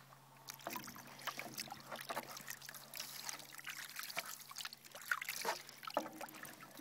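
Running water trickles and splashes softly through a gold pan with riffles, a faint, continuous wet sound with small splashes.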